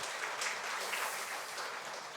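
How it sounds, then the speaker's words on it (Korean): A Korean church congregation claps during a Sunday service to welcome a visiting family from Canada, a dense, steady burst of applause filling the room. "우리 박수로 환영해 주시기 바랍니다."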